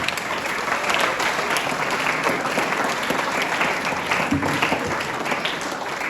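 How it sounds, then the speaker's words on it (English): Steady, full applause from a school audience at an Independence Day celebration, honoring the participants, a continuous dense clapping that holds at an even loudness with a faint murmur of voices beneath. "Let's give them a huge round of applause."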